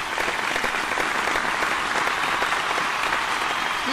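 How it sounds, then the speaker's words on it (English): Steady, dense applause from a cartoon dance contest crowd, a continuous wash of many hands clapping at even loudness for a few seconds, with no talking over it. "Give another round of applause to Team Catastrophe!"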